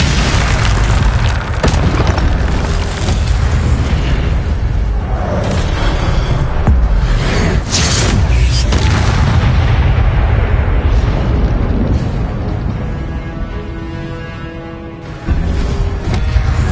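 Fire spell explosions in a wizard video game make loud, dense booming bursts that overlap almost continuously, fading slightly toward the end before a final blast.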